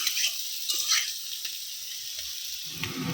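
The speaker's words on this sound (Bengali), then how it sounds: "এই যে নুন আর হলুদ দিয়ে খুব ভালো করে ভেজে নিয়েছি এবারে দিয়ে দেব মশলা" Salt, turmeric and spices fry in a pan with a steady, fairly close sizzle, a soft hiss broken by small pops and stirring scrapes, with a slightly fuller burst near the end.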